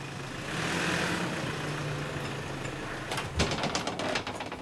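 A car idles after arriving at a home yard, a low steady engine rumble, moderately faint, joined near the end by a few sharp clicks and knocks, with no speech.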